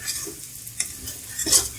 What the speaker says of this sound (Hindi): हम इसको 1 से 2 मिनट भून लेंगे